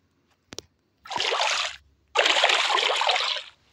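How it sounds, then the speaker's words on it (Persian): Two bursts of rushing, splashing flood water in a Minecraft mod, each lasting under a second, preceded by a brief click, loud and close with no talk. "ای بابا باز که سیل اومد."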